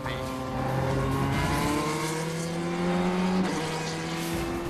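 An LMP1 prototype race car drives at speed, its engine note climbing through steady harmonic sweeps, dropping briefly at a shift and rising again, loud and sustained.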